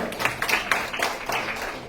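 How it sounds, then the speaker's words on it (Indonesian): An audience claps through a commercial seminar, a steady spread of hand claps from the crowd without a clear break, at moderate level with no voice over it. "tepuk tangan buat kalian semua"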